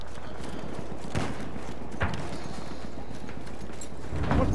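Enemy cavalry horses galloping in a video game battle, a few distinct hoof thuds over a rumbling battlefield din, building louder toward the end.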